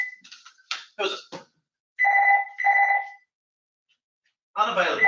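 A telephone rings in two clear electronic trill bursts, close and alone, between short spoken bits.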